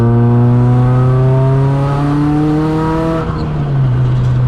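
A built Nissan S15 Silvia Spec R engine revs hard to about 5,000 RPM, a loud, close rising note that climbs steadily before dropping back toward idle.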